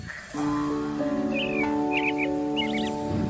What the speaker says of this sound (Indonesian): Pagi-pagi memang senang banget dengar kicauan burung.